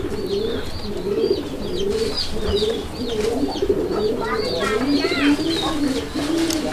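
Raj golla pigeons coo in low, repeated rolling calls close by, with higher chirps and twittering mixed in and a person talking intermittently.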